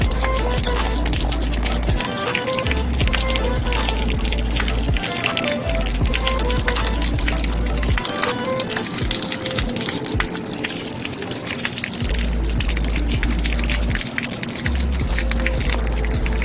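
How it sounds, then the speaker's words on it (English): Water pours steadily into a fish aquarium holding bass and peacock bass during a water change. The splashing wash is loud and continuous throughout, with a low rumble underneath. "Doing a water change right now."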